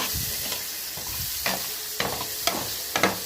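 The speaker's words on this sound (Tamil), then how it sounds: "இப்போ பாருங்க, நம்ம தக்காளி குழம்புக்கு தேவையான வெங்காயம் பூண்டு எல்லாம் போட்டு வதக்கிட்டு இருக்கேன்." Onion and garlic sauté in a pan for tomato curry, a steady close sizzle with a spatula scraping and stirring in roughly regular strokes about every half second.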